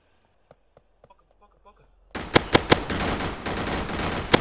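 Gunfire erupts after a few faint knocks: loud bursts of automatic machine-gun shots and single cracks ring out in a rapid, close fusillade that continues to the end.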